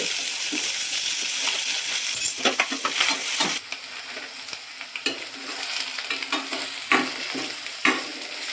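Cumin and mustard seeds frying in hot oil, a dense continuous sizzle and crackle with sharp pops and a few stirring clinks, loud and close, the hiss easing slightly partway through.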